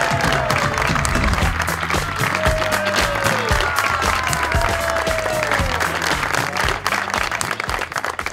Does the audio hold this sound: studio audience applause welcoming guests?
yes